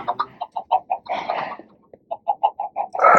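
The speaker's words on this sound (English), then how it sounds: "And this is our seed chickens." Video game chickens on a farm cluck in a steady run of short, evenly spaced calls, close and clear, broken by a brief busier flurry of overlapping clucks midway.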